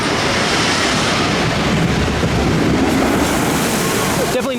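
A log flume boat splashes down the big drop at Cliff's Amusement Park in Albuquerque, heard as a loud, continuous rush of churning water and wind noise with no clear break.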